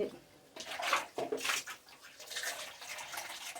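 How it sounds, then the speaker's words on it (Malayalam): Water splashes and trickles in short bursts, poured into a cooking pot of fish curry and mashed tapioca, close by with some faint background noise. "ശകലം വെള്ളം ഒഴിച്ച് ഒഴിച്ചിട്ട് ഇങ്ങനെ ഒന്ന് ഇളക്കി കൊടുക്കണം"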